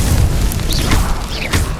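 A Confringo fire spell in Hogwarts Legacy bursts in a loud, roaring blast, with heavy low rumble and crackling fiery whooshes over a steady, dense background throughout.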